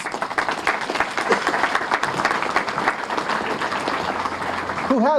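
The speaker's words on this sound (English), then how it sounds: "give a great round of applause to your Veteran Service Officer, Jeff Hallett" An audience at a Korean Ambassador for Peace Medal ceremony gives a warm round of applause for a veteran service officer, a continuous rattle of many hands clapping near and full throughout.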